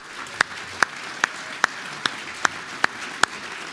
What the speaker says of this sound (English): Let's give this great group a round of applause.